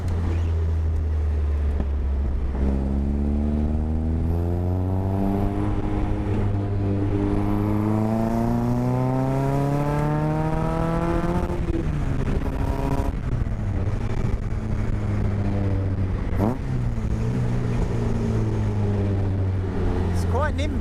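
A Phoenix car driving along, its engine note rising and falling through gear changes with intake induction noise drawn through an exposed sausage filter, loud and continuous close inside the cabin.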